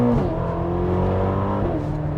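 A Ferrari GTC4Lusso on its stock exhaust holds a loud, steady mechanical drone close by, with pitch sliding slightly up and down as the engine revs, with no voices.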